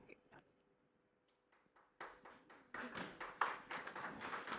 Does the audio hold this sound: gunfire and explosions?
no